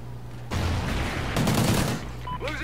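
Gunfire in the video game Call of Duty: Ghosts comes as two bursts of rapid shots, loud and close, with game sound effects following after the firing stops.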